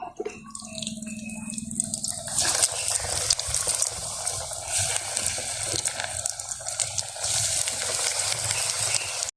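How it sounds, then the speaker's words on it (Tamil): Potato cutlets deep frying in hot oil in a village kitchen, a steady crackling sizzle with dripping, bubbling textures, the oil turning busier and brighter after the first couple of seconds. "மற்ற எல்லாத்தையும் பொரிச்சுட்டு நாங்கள் பார்ப்போம்."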